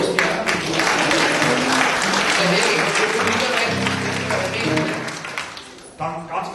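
Sustained audience applause fills a hall at a cabaret-style stage show, dense and steady for several seconds before thinning out, with voices and some cheering mixed in toward the end.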